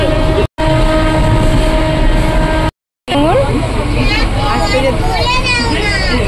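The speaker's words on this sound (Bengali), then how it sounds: "তো আমরা সবাই ট্রেনে উঠে গেছি এখন।" A passenger train rumbles loudly and steadily with rhythmic clatter and a sounding horn, while people talk nearby over the noise.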